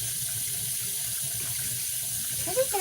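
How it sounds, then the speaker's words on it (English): Tap water runs steadily into a pot being filled for boiling noodles in a home kitchen, a continuous hiss with faint clinks near the end, no voices. "So I'm gonna put the noodles to boil now with the water."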